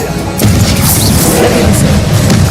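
Expelliarmus disarming spell cast in Hogwarts Legacy, a loud booming magical impact amid continuous heavy game combat noise, with a sharp onset about half a second in and sustained rumble throughout.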